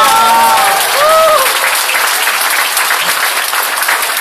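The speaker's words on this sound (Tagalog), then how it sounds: "Palakpak naman siya!" An audience at a new distributors' orientation breaks into loud, dense applause, many hands clapping at once, with a voice briefly heard at the start before the clapping carries on steadily.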